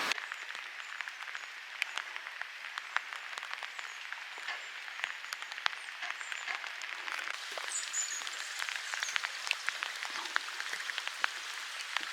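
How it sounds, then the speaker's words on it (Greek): Steady rain in rainy Patagonia, Chile, pattering densely on surfaces with sharp drop ticks throughout, moderately close and continuous with no talk. "Η βροχή, εντάξει, δεν σταματάει με τίποτα εδώ."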